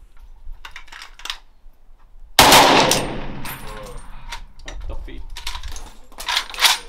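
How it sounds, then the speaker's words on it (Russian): A German WWII machine gun fires on a range. Quiet mechanical clicks give way to a sudden loud blast, followed by ringing echo and scattered metallic clatter. "Это ж автомат."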